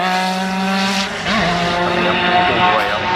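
Alan Jones's 1980 championship-winning Formula 1 car climbs a hill course at a festival, its high-revving engine a loud, sustained wail with rising and falling gear changes, heard somewhat distant over faint crowd commentary.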